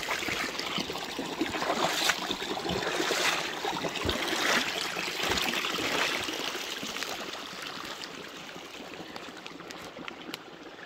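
A forest stream in the taiga flows and trickles steadily, a close, continuous watery rush with a few sharper splashes and knocks standing out along the way.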